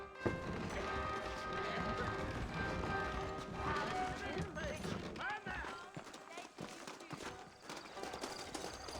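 Horses trotting with clip-clop hooves in Red Dead Redemption, set in New Ulster, heard under continuous game music and ambience while people talk.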